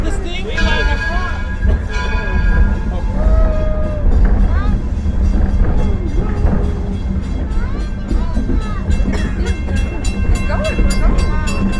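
The Edison steam locomotive at Greenfield Village runs with a steady loud rumble and clatter of rail cars, chuffing and squealing metal throughout, a continuous close train ride sound with voices faintly underneath.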